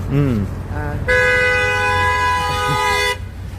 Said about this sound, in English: We're doing the honks